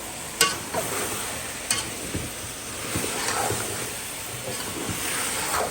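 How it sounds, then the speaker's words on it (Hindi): Potatoes are tipped into a pan of softened, frying tomatoes for aloo moongray, giving a steady sizzle and hiss with a few sharp stirring scrapes and clatters near the start, close and alone. "टमाटर हमारे गल गए हैं, अब मैं डालूँगी इसमें आलू।"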